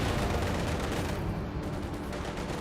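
Sustained battlefield gunfire from the Company of Heroes 2 strategy game, a dense continuous roar of rapid shots and rattling bursts with a steady loud level throughout, no clear separation between individual rounds.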